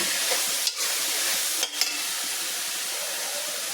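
Chopped onions with salt sauté in hot oil in a pan, a dense steady sizzle broken by a couple of short scraping stirs, close and loud with no talking.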